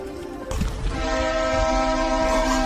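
A ship's horn sounds as the vessel arrives, a sustained, loud, multi-toned blast that starts after a brief low rumble and holds steadily to the end, with no talking.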